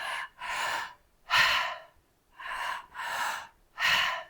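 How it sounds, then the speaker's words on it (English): Slow, deliberate mouth breathing during a somatic breathwork exercise: six broad airy breaths alternating in and out with brief pauses, close and fairly loud, with no talking. "Breathing in and out through the mouth."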